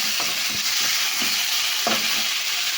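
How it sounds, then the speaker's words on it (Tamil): Vegetables sizzle in hot oil in a pan, a loud constant hiss broken by several scraping strokes as they are stirred. "நல்லா மூடி வச்சு நம்ம பொன்னிறமாக வறுத்துக்கணும்"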